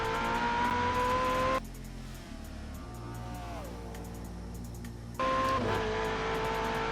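Ferrari 488 Pista engine accelerating hard, a loud sustained roar that rises in pitch through the gears with a quick shift dip midway, heard from inside with no talking.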